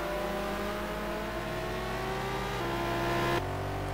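BMW M3 race car engine in a sim racing game, a steady loud whine holding high revs and then dropping abruptly with a gear change, with no voices.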